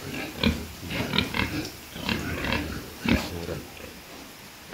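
Duroc pigs on a pig farm grunt and snort in short irregular bursts over a busy pen background, fairly close, with no clear talk.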